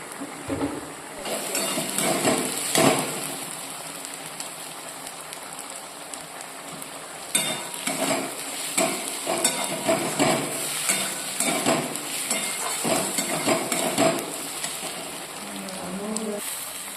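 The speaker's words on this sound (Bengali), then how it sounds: "আর পেঁয়াজ কুচি, শুকনো লঙ্কা দিয়ে এখন ভাজা হচ্ছে" Chopped onion and dried red chillies crackle and sizzle steadily in oil in a pan, with occasional scraping stirs and clinks rising above the hiss.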